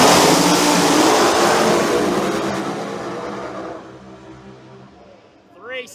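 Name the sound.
Pro Mod drag race cars launching down the strip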